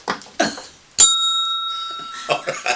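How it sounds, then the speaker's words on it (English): A single bright ring of a small hand bell, sharp strike followed by a ringing tone that fades over a second, with people talking just before and after. "And Mary, ring that bell now"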